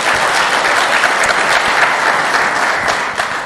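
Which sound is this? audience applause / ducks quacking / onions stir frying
audience applause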